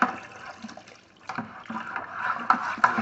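A paddle churns strawberry mead during back sweetening, giving soft sloshing, swishing liquid strokes that swell and fade in an uneven rhythm, fairly quiet and close.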